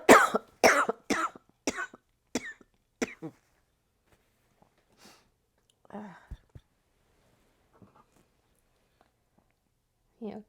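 A person coughs in a quick burst of several harsh coughs, close and loud, followed by quieter throat sounds and faint shuffling in an otherwise quiet room.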